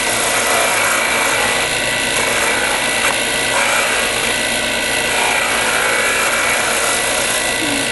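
A wood block spins on a lathe as the cutting tool finishes the last half of a turned pin, a steady harsh scraping rasp with a motor whine underneath, loud and continuous throughout.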